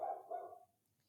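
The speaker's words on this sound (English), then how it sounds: "Please excuse my barking dog." A pet dog barks twice in quick succession, fairly close and moderately loud, with the second bark slightly drawn out before the room falls quiet.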